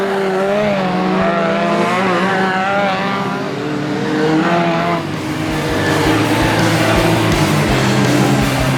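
F2 Outlaws stock cars racing around the bottom bend at Grimley Raceway, loud engines roaring and rising in pitch as cars pass close, with tyres squealing through the turn.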